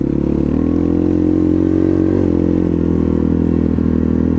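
An Apollo 250cc dirt bike engine runs loud and close at a steady, rumbling idle for the whole stretch, with no speech over it.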